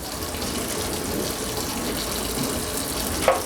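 Hot water runs steadily from a tap into a sink filled with soapy water, a continuous close splashing gush with a small clink near the end.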